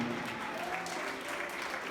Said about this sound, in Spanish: brindarle un fuerte y bonito aplauso al Rey de Gloria